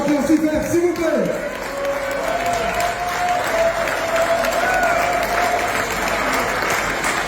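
A crowd applauds a performer at a live Sunday show, loud sustained clapping with scattered voices and a held musical note over the top, a brief sung phrase at the start.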